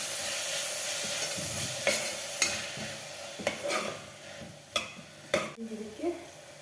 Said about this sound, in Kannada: ಎಲ್ಲ ಇವಾಗ ಸ್ವಲ್ಪ ಎಣ್ಣೆನಲ್ಲಿ ಫ್ರೈ ಮಾಡ್ಕೊಳ್ಳೋಣ